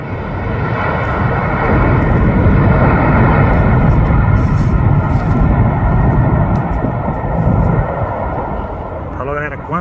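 An airplane lands on the runway at Brasília airport, a loud, sustained roar of jet engines rolling past close by, swelling and then easing off, with a voice speaking near the end.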